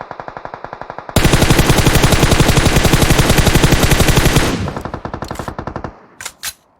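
Rapid automatic gunfire in PUBG Mobile, a long loud unbroken burst of closely spaced shots, very near, that thins into lighter shots and stops with a few sharp final cracks.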